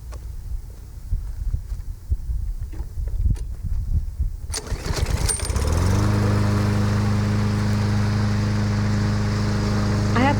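A TroyBilt TB320 lawn mower's engine is pulled to start. Several rough ratcheting pulls and clanks come first, then the engine catches and settles into a loud, steady close-up drone.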